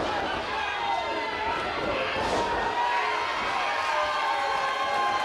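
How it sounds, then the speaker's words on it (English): A crowd at an independent wrestling show roaring and cheering steadily in an indoor venue, a dense sustained swell of voices with a louder burst midway, and a commentator speaking over it. "This crowd is alive for the linebacker of praise."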